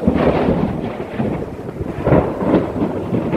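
Loud, close rumbling thunder from a big thunderstorm rolls on continuously, with low booming swells and rain hissing underneath.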